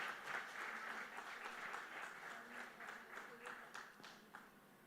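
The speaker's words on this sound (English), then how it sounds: "with a round of applause," A keynote audience at a security conference gives a faint, distant round of applause, dense and sustained for about five seconds before gradually thinning out.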